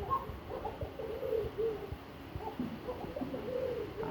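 Pigeons at a market stall cooing in low, repeated throaty calls, several birds overlapping at close range against a soft background hum.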